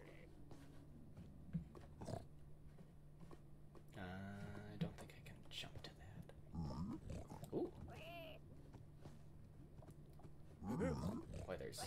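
Piglins in the Minecraft Nether give snorts, grunts and squealing oinks from several directions, with a low ambient drone beneath and a voice talking at times.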